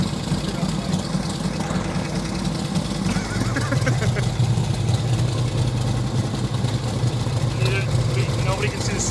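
Motorcycle engine running with its clutch spinning in a cycle shop, a loud steady mechanical drone and whirr close by, while people talk over it.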